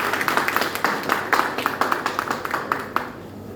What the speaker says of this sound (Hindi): या जोरदार तालियों के साथ उनका स्वागत।